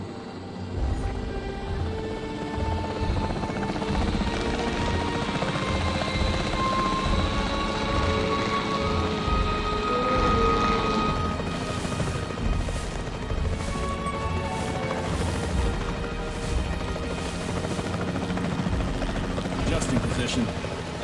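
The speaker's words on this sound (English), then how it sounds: "The priority needs to be tranquilizing it with the capture team chopper." Capture team helicopter in the video game Jurassic World Evolution 3, a steady rotor drone with engine rumble running throughout, alongside crashes and other game effects.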